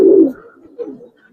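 Giribaz pigeon giving a short low coo, close and fairly loud, followed by a softer second murmur before fading out.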